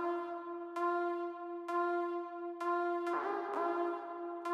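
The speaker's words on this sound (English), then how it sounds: "So this is Ableton's vocoder. I've set it to pitch tracking to get that classic vocoder sound." A synth runs through Ableton's vocoder with pitch tracking, fully wet and sent to reverb, producing sustained, voice-shaped chordal tones that change every second or so. The tones are moderately quiet and have a synthetic, airy tail.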